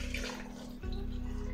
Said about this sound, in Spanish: le voy a agregar un poquito de caldo para que le dé un poco más de sabor a la salsa